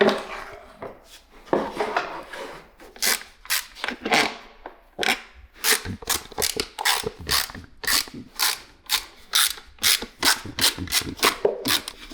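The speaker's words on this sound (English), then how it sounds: "Now we need to remove coil packs and spark plugs to check the spark" Ratchet clicking in quick rapid bursts while coil packs and spark plugs are removed from a damaged Mercedes-Benz SL320 engine, close and crisp, with brief pauses between runs.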